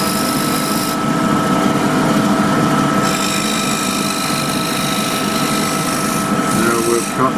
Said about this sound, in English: And use a curved scraper just to smooth over there.